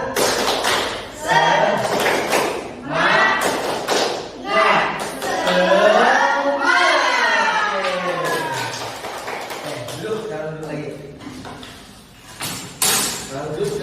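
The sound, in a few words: group doing a rhythmic spirit clap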